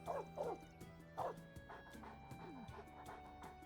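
Dog yipping and barking in the Trails Beyond the Horizon video game, several short close yips and bow-wows in quick bursts over soft game music, with a whimpering tone between them.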